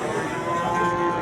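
A pregnant cow at a livestock market gives a single drawn-out, close moo.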